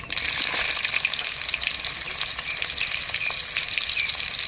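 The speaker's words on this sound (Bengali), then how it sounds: "তেলের মধ্যে দিয়ে দেবো কালো জিরা ফোড়ন পেঁয়াজ কুচি" Black cumin and chopped onion dropped into hot oil, a loud, close, continuous sizzle with crackling spits and stirring, no one speaking.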